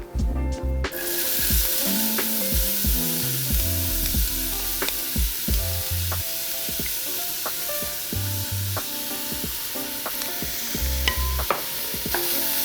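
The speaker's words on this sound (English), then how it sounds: "To this pot, I'm gonna go ahead and start with some olive oil. I'm gonna add my onions to the pot." Onions sizzle steadily in olive oil in a pot, a loud continuous frying hiss with occasional stirring scrapes, heard alone without talk.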